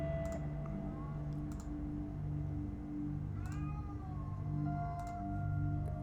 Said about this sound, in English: I don't know if you can hear my cat howling